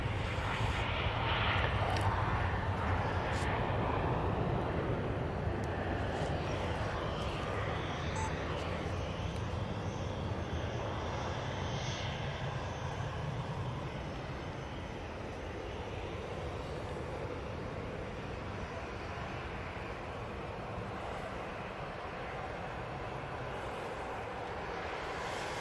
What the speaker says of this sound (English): Qatar 787-9 Dreamliner, now on the spool up.